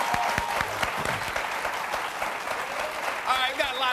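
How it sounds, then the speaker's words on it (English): Studio audience for a TV sports panel show breaks into sustained applause, a dense wash of clapping that carries steadily for several seconds, with a voice briefly cutting in near the end. "Please give my panel a round of applause"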